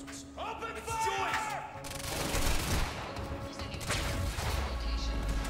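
Bursts of rapid automatic gunfire in the shooter game Quantum Break crack and rattle in loud volleys, mixed with game effects and shouted voices.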